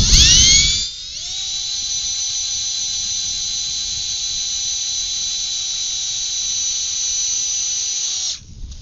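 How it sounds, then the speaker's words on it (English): A high-pitched electric drill whines steadily for about seven seconds while driving self-tapping screws into a wind-damaged ShelterLogic portable garage frame, close and loud, with no speech. "Some self-tapping screws here."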